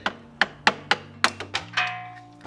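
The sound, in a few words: chiselling out broken plastic piece on BMW F30 axle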